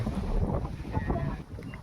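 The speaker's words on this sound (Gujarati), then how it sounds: "આજે હવે પવન નીકળી ગયો કમ્પ્લીટ" Wind gusts across an open farm field where onions are grown, a steady low rumble buffeting the microphone with no pauses over a couple of seconds.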